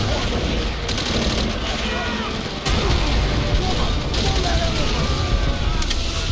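In the Call of Duty: World at War battle, gunfire rattles close by, and a grenade bursts partway through, lifting a dense wall of combat noise that continues afterward.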